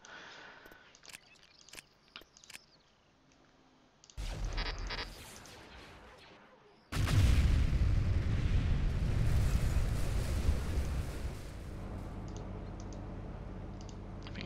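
An artillery unit firing automatically in the Star Wars Empire at War video game: scattered clicks, then a rumbling blast and a long, heavy roar of explosions that slowly fades. No voices are heard.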